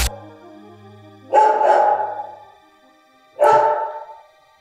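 A dog barks in two loud, close bursts separated by a short silence, the first burst a quick double bark and the second a single sharp one, with no voices.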